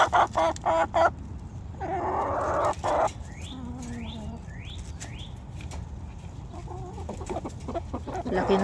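Backyard chickens and a large rooster cluck close by, with a short burst of wing flapping and a series of brief rising calls. Feeding scraps are scattered nearby and the flock sounds fairly quiet over steady outdoor background.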